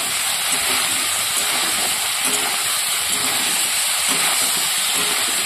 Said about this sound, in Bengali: এবার হচ্ছে আমি তেল দিয়ে যে মাংসটাকে ভেজে নেব।